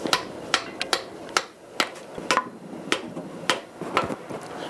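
A rubber mallet knocks loose parts during the bottom-end teardown of a 6.2L diesel engine, giving a dozen or so sharp, close raps at an uneven pace with brief pauses between blows and no talking.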